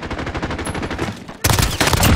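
Rapid automatic gunfire in Call of Duty Modern Warfare multiplayer cracks out as an evenly spaced burst, then a louder, closer volley breaks in toward the end.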